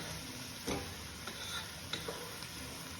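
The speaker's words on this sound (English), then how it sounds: "the next step is to stir all of this together. Try to get all of those vegetables coated in the tomato paste" Vegetables being stirred with tomato paste in a cooking pot for beef and barley stew, giving a soft continuous sizzle with a few scraping stirs and light clicks, close and fairly quiet.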